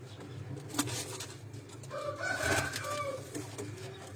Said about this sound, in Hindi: ये वो दोस्तों ये चीने कबूतर जिनका मैं आपको बता रहा था कि मलक साहब के पास ये माशाल्लाह काफ़ी तादाद में ये कबूतर मौजूद हैं।